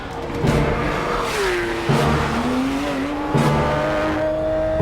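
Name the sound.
Porsche 911 GT3 sports car driving on a track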